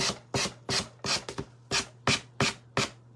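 Sandpaper rubs over an edge in eight brisk, even back-and-forth strokes, each a short dry rasp, close by with quiet gaps between.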